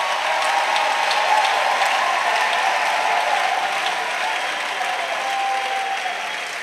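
A church congregation claps together as an offering to Jesus, a dense sustained wash of applause from many hands filling the room evenly for several seconds without spoken words.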